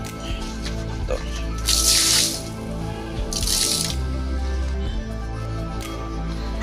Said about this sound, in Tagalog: lagyan natin ng tubig yung kalabasa natin